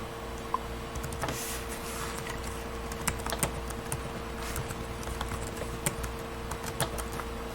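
Someone types an IP address on a computer keyboard, close and quiet, with a run of irregular light key clicks and a few sharper taps, and no talking.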